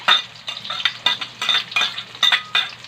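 Garlic and onion sauté in a pan for chicken tinola, with a utensil scraping and clinking against the metal in brisk, uneven strokes over a light sizzle, close and clear.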